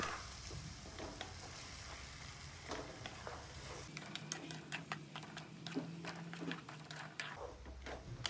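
Grated beetroot and carrot cooking in oil in a pan, a soft continuous sizzle broken by repeated ticking scrapes and taps of a spoon as it is stirred, fairly quiet and close.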